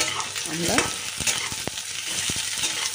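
Onions frying lightly in a pan, a close steady sizzle broken by a few sharp spatula scrapes and stirring knocks.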